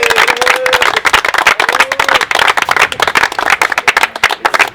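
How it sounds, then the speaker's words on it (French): Golf tournament participants applauding themselves: lively, dense clapping from a group at close range, with a few whoops and voices mixed in. "Vous pouvez vous applaudir bien fort."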